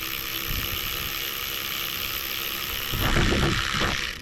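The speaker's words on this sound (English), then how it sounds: "This little Ryobi is not too powerful, but it's nice because it does give you the whole ratchet as well, so you can loosen that up." A Ryobi cordless ratchet loosens a bolt during a motor replacement, giving a close, steady mechanical whir that swells and roughens into a grinding, clicking burst near the end.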